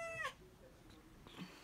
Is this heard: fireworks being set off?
no